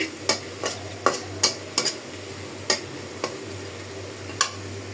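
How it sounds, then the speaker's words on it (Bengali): Onion and garlic sizzle in hot oil for a dal tempering, a steady frying hiss punctuated by regular sharp taps and scrapes of a spoon against the pan, with no voices. "আমি এখানে পেঁয়াজ রসুন দিয়ে একটু বাগার দিয়ে নিচ্ছি"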